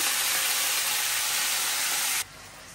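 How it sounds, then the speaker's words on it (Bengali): Chicken sizzles in a hot pan with a steady, loud hissing spray of frying that cuts off abruptly near the end, leaving a quieter hiss. "চিকেনটা ভেজে নিতেছি।"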